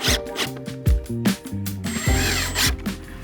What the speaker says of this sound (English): So a little tip is to drive a screw in here